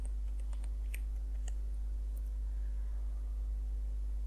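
Typing on a computer keyboard at a Windows PC, scattered soft key clicks over a steady low hum, with no talking.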